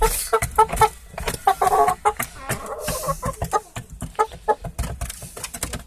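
Chickens cluck and peck busily nearby, with scattered short calls and scratchy tapping sounds, no voices.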